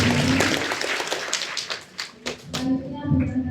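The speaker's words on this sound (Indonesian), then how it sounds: "Berikan tepuk yang meriah untuk" Audience applause at an Islamic women's study session, a burst of clapping that thins out into scattered claps and then fades as voices and tones come in near the end.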